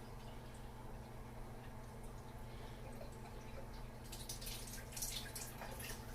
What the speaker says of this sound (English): Go ahead and turn my hot water on.